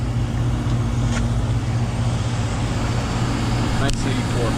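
A 1984 Bryant (BDP) three-phase heat pump with a Copeland compressor, running in heat mode, gives a steady close, loud mechanical hum with a constant low drone throughout.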